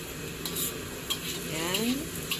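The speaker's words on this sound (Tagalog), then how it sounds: "Golden brown natin ang ginger." Ginger frying in a small amount of oil in a pan for a Chinese-style stir fry, a close steady sizzle with light stirring scrapes and a few soft clinks of a utensil.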